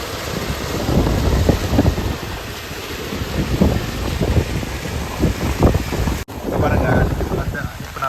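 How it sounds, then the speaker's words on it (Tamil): Floodwater rushes forcefully near a dam during a cyclone red alert, a loud continuous roar mixed with heavy wind buffeting on the microphone, with a brief dropout near the end. "தண்ணி எவ்வளோ ஃபோர்ஸாக வருது"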